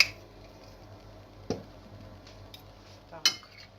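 Salad dressed with sesame seeds being tossed in a bowl, heard as a few sparse, close clinks and knocks of utensils against the dish over a quiet background.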